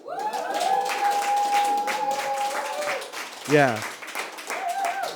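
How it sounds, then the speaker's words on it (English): Audience clapping after a short story at an art talk event, a spread of claps under a sustained voice and brief talk, including a short shout partway through. "Round of applause."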